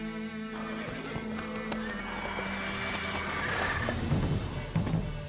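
Roach, Geralt's horse in The Witcher 3, trots with steady clip-clopping hooves and lets out a clear neigh, over faint game background sounds.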